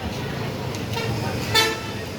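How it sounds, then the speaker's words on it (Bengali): A road traffic jam with engines idling in a steady low roar and a car horn tooting briefly in the distance, followed by a louder, short honk. "এই অবস্থায় এত জ্যাম, গাড়ি লড়ে না"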